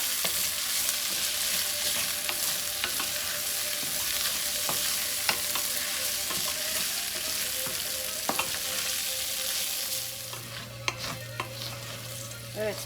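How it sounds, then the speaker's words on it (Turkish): Rice for a Trabzon-style anchovy pilaf is stirred and sautéed in a pan, producing a continuous close sizzle with scraping stir strokes and occasional sharper clicks throughout. "Pilavımı güzelce kavurdum arkadaşlar."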